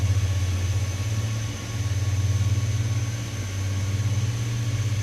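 Simulated iniBuilds A350 jet engines in MSFS2024 hum and drone steadily, a loud, close, low rumbling whine with slight swells in level as they spool up, no voices.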